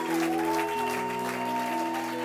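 A church congregation applauds and cheers in acclamation, a steady, dense wash of clapping over sustained tonal music for a couple of seconds.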